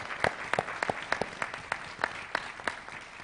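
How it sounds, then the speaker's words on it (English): Audience at a panel event in Sacramento gives the panelists a round of applause, a steady patter of many hands clapping at moderate volume for a few seconds with no talking. "please let's give our panelists a round of applause."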